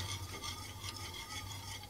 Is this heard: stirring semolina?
yes